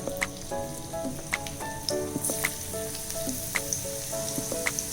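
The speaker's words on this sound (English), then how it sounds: "Once the oil is heated, I am adding finely chopped ginger and garlic" Finely chopped ginger and garlic sizzle steadily in hot oil in a pan, a close, continuous frying hiss dotted with small pops and crackles and faint utensil clinks.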